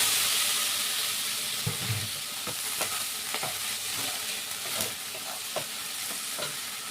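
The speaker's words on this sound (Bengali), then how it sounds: "আমি এবারে চিংড়ি মাছটা ঢেলে দিচ্ছি।" Prawns sizzle in a hot pan, a steady frying hiss broken by a series of sharp scrapes and clicks from stirring, moderately quiet and without talk.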